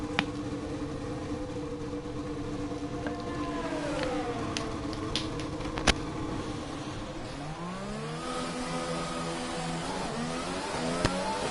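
An F1 2020 video game race car pulls out of the pit lane, its engine note rising and falling in smooth pitch sweeps. The whine runs steadily at moderate level alongside a siren-like tone and brief clicks.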